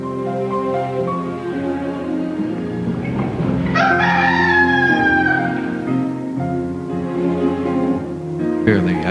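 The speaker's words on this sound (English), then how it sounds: "this night before the cock crow, thou shalt deny me three times" In a church Easter play, a rooster sound effect gives one long, loud cock-a-doodle-doo crow in the middle, over a sustained background drone.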